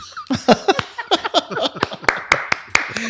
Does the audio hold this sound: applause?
yes